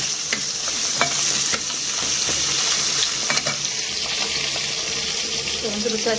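Onions fry and crackle in a hot pan: a dense, continuous sizzle with stirring scrapes and small pops, close and fairly loud, with a faint voice in the background.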